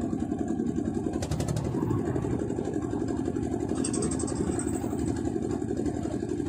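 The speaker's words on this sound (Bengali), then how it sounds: "এখানে প্রধান যাতায়াতের উৎসই নৌকা, এবং সামনে একটি কত বড় নৌকা যাচ্ছে" A boat engine runs steadily on a river in rural Bangladesh, a continuous mid-pitched drone that holds at an even level throughout with no talking over it.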